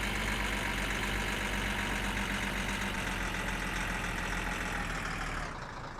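A car engine in the driving game My Summer Car runs at a steady, droning idle, close and continuous, before cutting down in volume near the end.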